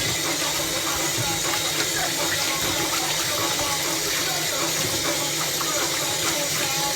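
Tap water gushes steadily into a sink while chicken wings are washed with vinegar, a loud continuous splashing rush with faint clatter mixed in.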